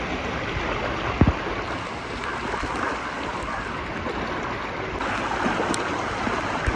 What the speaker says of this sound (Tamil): இங்கே பாருங்கள் சின்னதாக ஒரு ஃபால்ஸ் இருக்குது